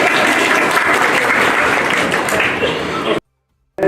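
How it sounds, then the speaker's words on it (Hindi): An audience breaks into loud, dense applause for about three seconds, then it cuts off abruptly into silence. "एक मतलब और तालियां बजा दें लोग"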